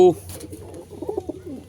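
Soft, low pigeon coos murmur steadily and close by, with faint voices or a brief human sound mixed in underneath.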